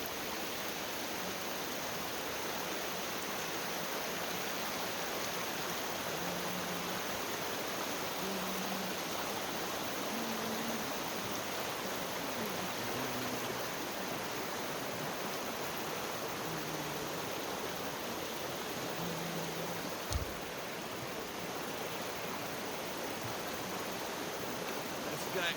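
A creek flows steadily, a continuous near rushing of water that stays loud throughout with no talking.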